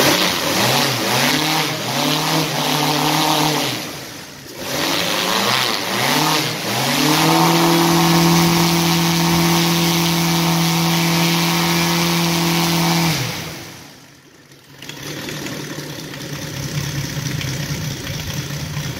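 A UMS 7 260cc radial aircraft engine with an RCEXL CDI ignition revs up from low to high in quick bursts, holds a loud steady high-rpm drone, then drops back to a smooth idle, close up with no talk.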